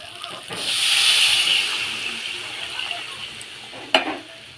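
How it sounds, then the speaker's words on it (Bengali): Water poured into a pan of sizzling fried spice masala while preparing a thin koi fish curry with cauliflower: a loud hissing surge swells early, fades to a steady sizzle, then a sharp clatter near the end. "মশলাটা কষানো হয়ে গেছে, তো এখন আমি জল দিয়ে দেব।"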